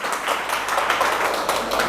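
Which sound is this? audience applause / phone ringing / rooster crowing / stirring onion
audience applause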